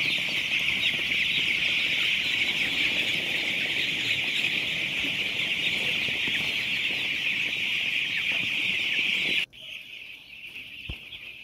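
Broiler chickens in a poultry house, a dense, constant chorus of clucking and peeping from many birds at once, loud and continuous before dropping to a quieter level near the end.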